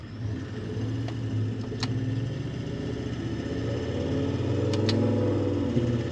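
A Toyota 79 Series with an 8-speed automatic conversion accelerating steadily, its mid-pitched engine drone building and rising gradually with subtle changes as it shifts up through the gears, heard from inside without talk.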